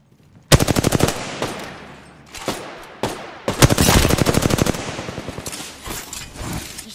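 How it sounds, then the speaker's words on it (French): Rapid automatic gunfire from the Apex Legends video game rattles in loud, close bursts of evenly spaced shots, separated by brief pauses, with several single shots among them. "Je tire."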